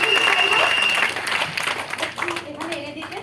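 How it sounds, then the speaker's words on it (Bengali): Loud, dense audience applause at a program, strongest at the start and then thinning out as a few voices and scattered claps take over toward the end. "তো জোরদার একটা হাততালি হয়েছে।"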